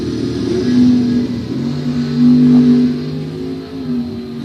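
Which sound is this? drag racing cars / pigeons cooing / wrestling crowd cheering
drag racing cars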